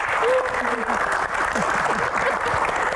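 Studio audience applauding panelist Coach Tom on a talk show, a continuous clapping wash with a voice speaking over it throughout.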